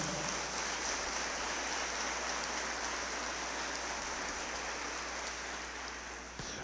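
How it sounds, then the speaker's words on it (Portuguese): A congregation at a church service applauds, a dense, continuous patter of many hands clapping that hisses like rain, steady throughout and tapering slightly at the end. "Você pode aplaudir o Senhor bem forte?"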